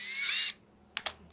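Kyoal KY-6065 cordless drill with a drill bit fitted, a short whirring run up close that stops abruptly, followed by two quick clicks of the trigger or chuck.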